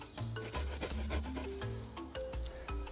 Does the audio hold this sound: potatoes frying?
no